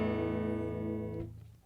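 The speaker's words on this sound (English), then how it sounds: "the guitar I'm using is just a Squier Jazzmaster" A clean Squier Jazzmaster electric guitar rings out with a single sustained chord, steady and quiet, then fades and cuts away after just over a second.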